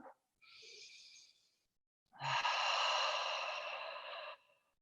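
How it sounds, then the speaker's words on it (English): A deep breath taken in, then blown out through the mouth in a long, loud, breathy exhale, close and alone with no talking. "take a deep inhale and just blow the air on an exhale through the mouth"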